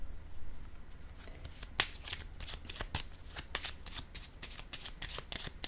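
Tarot cards shuffled and snapped down one after another, a quick series of sharp riffling slaps and flicks, close and fairly quiet, with no talking.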